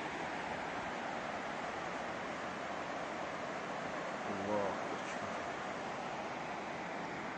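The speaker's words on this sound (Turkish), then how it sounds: "Fırtına Deresi. Muhteşem akış. Bu kadar bol su olur mu?" Fırtına stream in Rize, Turkey, flowing full and fast: a steady, dense rushing roar that fills the whole stretch without a break, with a brief faint voice-like sound midway.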